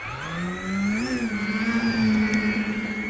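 A radio-controlled Beechcraft D18 scale model airplane runs up for takeoff from a grass field, its electric motors whining in a steady nearby drone that rises in pitch as the throttle opens, with no voices.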